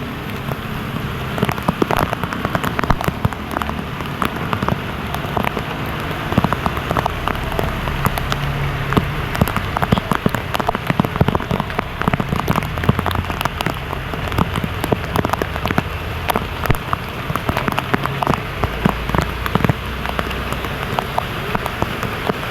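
Heavy typhoon rain from Typhoon Enteng pours down on surfaces in a dense, continuous roar with constant close spattering, loud and unbroken throughout.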